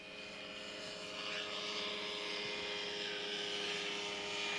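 A small plane flies over a 1995 fly-in at Ste. Genevieve, Missouri, its steady propeller engine drone holding at a moderate distance, slowly swelling a little louder throughout with no talk.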